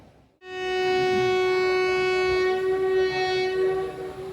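A loud, sustained departure whistle from the Koyna Express at Kolhapur railway station, a single steady tone held for about four seconds against faint station background noise.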